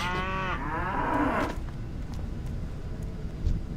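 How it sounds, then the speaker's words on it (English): A cow in World of Warcraft Classic gives one loud, drawn-out moo that fades after about a second and a half, followed by faint game ambience with light clicks. "Then I killed some cows."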